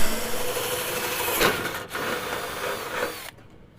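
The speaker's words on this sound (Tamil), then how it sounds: "இப்போ நம்ம மார்க் பண்ணிவிட்டு நம்ம இப்போ ஹோல்ஸ் போட்டுடலாம்." A power drill bores holes in the frame of a homemade air cooler, a steady whirring grind with a brief surge partway through that cuts off near the end. The sound is close and continuous, with no voices.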